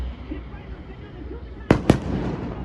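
Two sharp fireworks bursts crack out close together late on, loud over an outdoor evening murmur of people talking, at a restaurant by a church in Puerto Vallarta.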